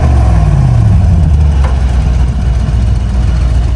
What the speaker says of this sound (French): Donc là il a démarré avec les clapets ouverts directement.